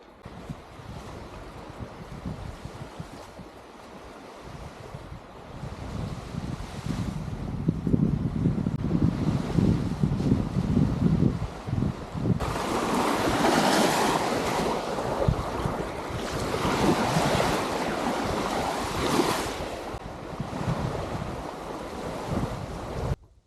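Waves and wind on a lake beach at Kohler-Andrae State Park in Wisconsin, a steady wash of surf under blustery wind that buffets the microphone and grows louder and rougher partway through.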